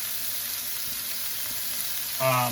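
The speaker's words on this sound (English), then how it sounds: "You want to hear that nice sizzle, just like that. Encrusting the outside of that steak" Steak searing in a hot pan gives a steady, close hiss of sizzling fat that runs throughout, then a brief voiced sound near the end.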